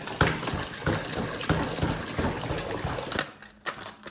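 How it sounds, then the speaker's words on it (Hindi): Water runs steadily from a tap into a cooking pot holding soaked rice, a continuous splashing wash with small rhythmic knocks, close and fairly loud, stopping near the end. "इसके अंदर पानी डालो यार।"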